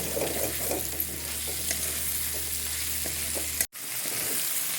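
Vegetables for veg pulao fry in a pan with a loud, steady sizzle that runs almost without pause, broken by one brief dropout near the end.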